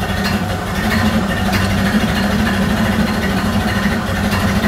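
A Model A Ford engine idles out of gear, a steady, loud low rumble with an even mechanical chug that holds without pause throughout.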